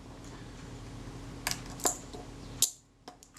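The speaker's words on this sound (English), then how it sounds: "So now if I cock the shutter," A camera shutter is cocked on a cocking rack, giving a few small metallic clicks and snaps close up over a faint steady hum, with a final sharp click.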